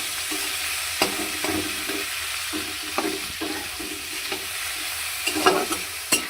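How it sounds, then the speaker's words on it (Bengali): Potatoes fry in hot oil with a continuous sizzle, broken by regular sharp scrapes and clacks of a utensil stirring the pan, close and fairly quiet, with no talking. "এই তেলেই দিয়ে দেবো আলু দিয়ে দিলাম এবারে ভেজে নেবো"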